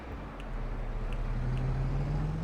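A tractor engine in Farming Simulator 22 drones steadily at close range, its low hum rising gradually in pitch as the machine works through a sugar beet field.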